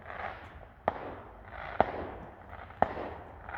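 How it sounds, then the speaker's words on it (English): Fireworks on bonfire night pop in three sharp, distant bangs about a second apart over a low outdoor rumble during a night walk. "there's fireworks going off."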